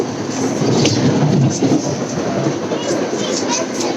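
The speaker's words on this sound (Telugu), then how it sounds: "అంటే చూడండి అవుట్ సైడ్ ట్రైన్ ఎలా వెళ్తుందో." A train in central London passes outside with a loud, continuous rolling rumble and rail clatter that holds steady for the whole stretch, with indistinct voices mixed in.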